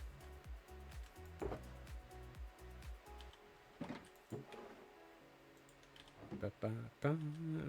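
Keys on a computer keyboard clatter in quick irregular bursts, close and fairly quiet, with a louder run of taps toward the end and a voice speaking over parts of it.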